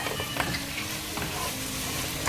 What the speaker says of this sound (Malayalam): ഇതിലേക്ക് നമ്മൾ വറുത്ത് വെച്ചിരിക്കുന്ന ചിക്കൻ ഇട്ട് കൊടുക്കുക. ഇത് നന്നായിട്ടൊന്ന് മിക്സ് ചെയ്യുക